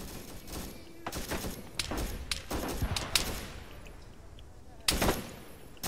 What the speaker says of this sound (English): They're shooting at it.